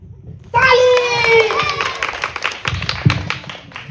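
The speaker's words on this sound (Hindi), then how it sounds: "ताली।" Children clap together at an Independence Day (15 August) celebration, a burst of quick, scattered claps rising from a crowd, with voices and tonal shouting of young kids layered over it.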